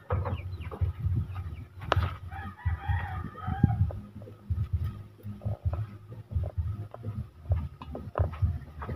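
Chickens cluck and call in a busy jumble close by, with a brief crow rising over the low, steady clucking throughout.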